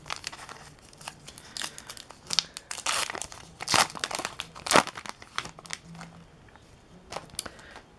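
Series 1 baseball card packs being torn open, with sharp crinkling foil wrapper and tearing bursts, irregular and close, several louder rips in the middle amid quieter rustling.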